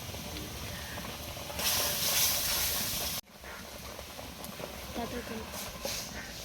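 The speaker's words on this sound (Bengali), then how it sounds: "এবার ভালো করে ফুটে গেছে" Wood apple chutney with turmeric and salt bubbles in a pan with a steady soft hiss and sizzle that swells midway and drops abruptly; a voice speaks over it.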